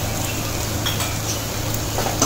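Dried fish podimas is being stirred with spices in a pan, giving a soft steady sizzle with scraping and occasional light clinks of a utensil against the pan, fairly close and without talk.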